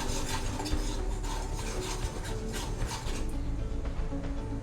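Spoon scraping and stirring red chilli powder, coriander powder, garam masala and turmeric together in a pan for an egg sandwich filling, a continuous soft rasping and rubbing sound, fairly quiet and steady with no voices.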